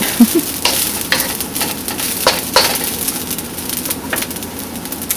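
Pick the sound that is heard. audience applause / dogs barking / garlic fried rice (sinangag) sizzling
garlic fried rice (sinangag) sizzling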